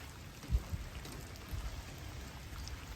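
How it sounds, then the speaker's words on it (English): Steady soft patter of rain falling, with a few faint low thumps of drops landing nearby, no voices. "just a-raining"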